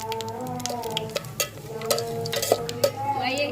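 Whole pulao spices being stirred in hot oil in a pot over a wood fire, irregular scraping and knocking strokes over a low crackle, close and moderately quiet, with a brief higher sizzle near the end.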